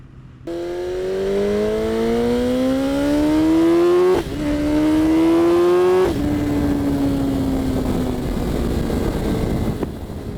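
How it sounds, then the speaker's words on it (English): BMW S 1000 RR superbike accelerating hard through the gears with a quick shifter, loud rising engine howls broken by two abrupt upshifts, then a sustained high-revving drone, no talk. "making a trip through the gears is an extremely enjoyable experience with the precise and smooth quick shifter"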